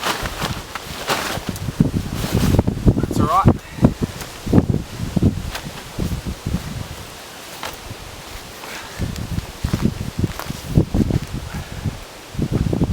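Gusty wind buffets the microphone while leaves and loose camping gear rustle in uneven bursts at a bush camp near Perth; a voice speaks briefly.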